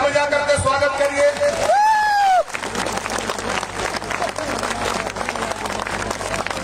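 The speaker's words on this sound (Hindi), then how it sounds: "जोरदार ताली बजा करके स्वागत करिए" Crowd at a Bihar election rally applauds to welcome the candidate Ashok Singh, with a rising-and-falling whistle-like tone first, then a sustained, dense roar of clapping and crowd noise that continues to the end.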